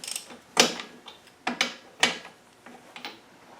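A wrench backs off the bolts on a Salisbury axle fitted to a Puma, giving a few separate metallic clunks and creaks up close, spaced irregularly with short quiet gaps.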